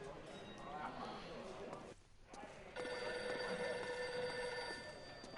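A telephone rings in the L.A. Noire video game, a steady repeating electronic bell that drops out briefly and returns louder, with game sounds and speech mixed in.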